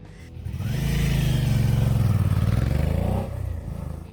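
A Suzuki V-Strom 650 motorcycle engine swells from idle into a loud, close rev, its tone shifting as it holds, then drops back toward idle near the end; no voices.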